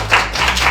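Applause for a teacher being honored for 30 years of teaching at a school, a short burst of dense clapping from an audience, fairly steady and moderately loud.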